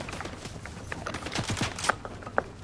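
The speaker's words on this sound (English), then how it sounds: "Okay, he's shooting at me." Fortnite gunfire comes as a short, brisk burst of rapid shots, fairly close and loud, with scattered clicks and game effects around it and no talking.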